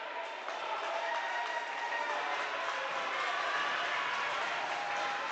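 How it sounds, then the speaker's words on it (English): A basketball crowd at a Border League game between Hoop Nation and Petersberg roars steadily during a skirmish on the floor, a dense, sustained wash of cheering and applause with no clear breaks. "I don't know if you can hear the crowd."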